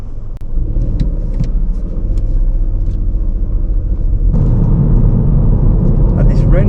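A car pulls away and drives straight on during a driving test, a loud steady engine and road rumble that grows fuller partway through, with an examiner giving directions over it.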